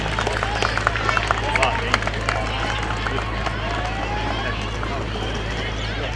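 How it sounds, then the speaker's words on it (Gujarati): An audience at a Republic Day celebration held by the Bhavnagar municipal corporation breaks into steady, dense applause that carries on at an even level throughout, with a public-address hum and some chatter beneath it. "તાળીઓના જોરદાર નાદથી આપણે આ સન્માનને વધાવીએ"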